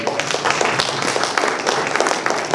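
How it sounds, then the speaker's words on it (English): An audience at a panel at the Kid Kon convention claps in a dense, even round of applause that lasts a few seconds at a fairly loud level. "Round of applause, guys."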